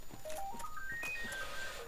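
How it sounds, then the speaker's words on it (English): A telephone rings with an electronic ringtone, a short rising run of clear beeping notes stepping upward in pitch over about two seconds, at moderate volume with no talking. "that's a phone call"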